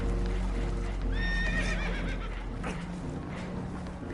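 A horse whinnies shrilly over a steady background roar, with faint clopping and rumbling continuing underneath, as spooked horses panic aboard a boat taking on water in the video game Red Dead Redemption 2.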